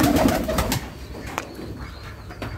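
Domestic pigeons in a loft coo softly and repeatedly, low murmuring calls at close range with a faint rustle of birds moving about.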